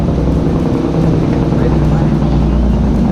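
Truck crossing a noisy bridge over the Rio Dulce, a heavy, steady low rumble and road roar that stays loud and close for the whole stretch, with a faint voice buried underneath.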